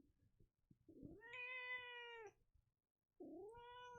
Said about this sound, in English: Did you just want to meow at me?